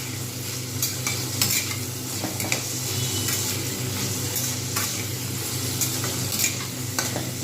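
Ridge gourd frying and being stirred in a pan for a Bengali potato-and-poppy-seed dish: a steady oily sizzle with repeated scraping spoon strokes against the pan, close and continuous, with no talking.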